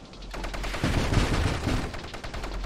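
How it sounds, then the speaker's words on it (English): Rapid gunfire of tiny bullets from the space shooter game Nova Drift, a dense continuous rattle of small shots with deep rumbling bursts underneath, steady and loud throughout. "Aw, tiny bullets. Tiny bullets everywhere."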